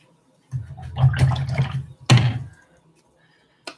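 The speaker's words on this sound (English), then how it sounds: "I'm gonna rinse off this brush." A paintbrush is rinsed in water, with a couple of short bursts of splashing and swishing close by, followed by a brief knock near the end.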